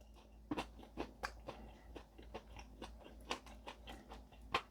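Crispy fried chicken is bitten and chewed close up, giving a steady run of sharp crunches and softer chewing clicks at an uneven pace, with no talk over it.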